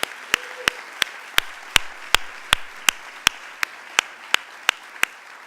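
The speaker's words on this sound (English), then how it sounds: "for starting the applause" Slow, evenly spaced hand claps at a college convocation ceremony, about a dozen sharp single claps over several seconds with no voices, sounding like one or a few people rather than a full crowd.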